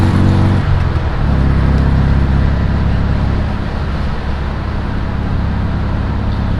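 An air-cooled VW car drives with a steady, loud engine drone from inside the cabin, the pitch shifting early on as gears change, with constant road rumble throughout.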